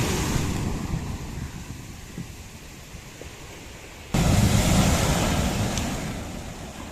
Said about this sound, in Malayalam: തിരമാലകൾ ആർത്തിറമ്പി വരണി കാണുന്നു